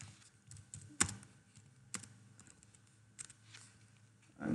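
Faint, sparse keystrokes on a computer keyboard, soft taps with a few sharper clicks, heard quietly and alone.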